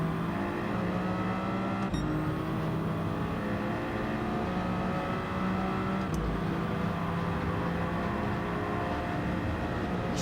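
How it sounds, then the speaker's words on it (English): Race car engine in Gran Turismo 7 droning steadily with harmonic tones rising and falling, plus a burbling exhaust on overrun, with brief sharp pops near the start and midway. "Just a little burble out the back."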